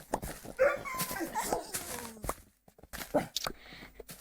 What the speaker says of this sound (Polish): Pieski.